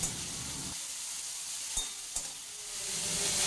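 Green apple chutney with salt and turmeric stirred in a pan, giving a steady sizzle with two sharp utensil scrapes against the pan midway; no talking.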